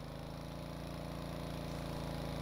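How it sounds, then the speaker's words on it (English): Vehicle engine with automatic clutch in the Stormworks video game, a steady mid-pitched engine drone with a regular pulsing rhythm, held at an even level throughout, no voices. "revs up the engine and it applies the clutch automatically"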